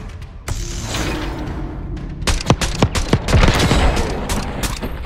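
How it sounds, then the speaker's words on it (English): SMG fire in Call of Duty: Black Ops 6, loud close bursts of rapid shots coming in several clusters, with mechanical clicks and rattles between them. "This gun is nasty. What fucking gun is this?"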